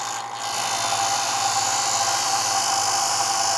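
A bench grinder whirs at a steady high pitch while a woodworking chisel is sharpened against the wheel, loud and continuous throughout after a brief softer start.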